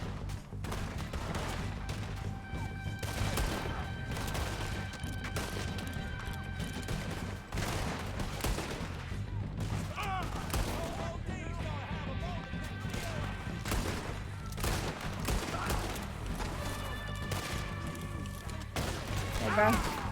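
Gunfire from a shotgun and other weapons in a Red Dead Redemption 2 shootout, dense repeated blasts over a steady rumbling game backdrop for the whole stretch.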